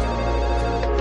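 Telephone ringtone, a steady loud electronic ring sounding alone in a short one-second burst.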